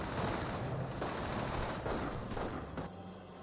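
MG42 machine gun in the Company of Heroes video game, sustained rapid automatic fire with dense overlapping bursts, loud and continuous throughout.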